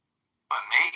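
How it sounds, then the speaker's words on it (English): A single frog croak starts after half a second of silence and comes as a short, buzzy, rising call, loud and near, with no talking. "Frog."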